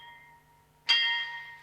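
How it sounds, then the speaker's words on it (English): A single bell from Wolfgang Zeller's original score for the film Vampyr strikes sharply and then rings on with a slow, bright decay after a quiet, steady tonal hum. "I decided to use the original bell because there's a quality to that you can't replace live"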